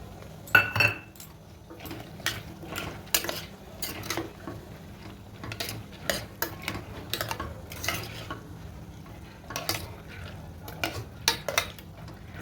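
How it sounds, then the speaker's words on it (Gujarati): Prepared spice masala tipped into a pan of vegetable curry and stirred in, with repeated scrapes and clinks of a spoon against the metal pan and a faint sizzle underneath, no one speaking. "હવે નાખી દઈશું આપણે મસાલો જે બનાવ્યો હતો ને એ."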